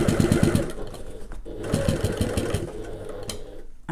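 A sewing machine stitches a gift bag at its longest stitch length, a continuous close mechanical whir with a rapid pulsing needle rhythm throughout.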